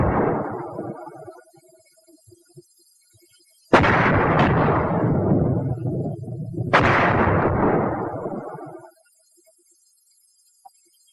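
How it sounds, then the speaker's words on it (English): Two loud explosions from mortar shells bursting in a WW2 infantry weapons demonstration, each a sharp blast followed by a long rumbling decay, after a fading earlier rumble; silence follows. "an exploding mortar shell can kill"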